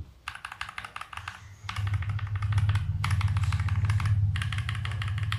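KTT Mint linear mechanical keyboard switches typed in four short bursts of brisk, close clatter, with a steady low hum growing louder beneath them and nobody talking.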